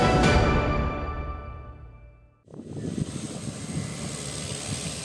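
A Caravan-type propeller airplane drones loudly at first and fades as it passes. It then gives way to a rougher, closer engine rumble that continues steadily.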